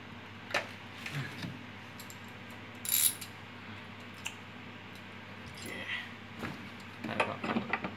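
A 10 mm wrench tightens a bolt on a Hitachi Inverter SF-140MV top-load washing machine, producing scattered faint ratcheting clicks and metallic taps close by in a quiet room.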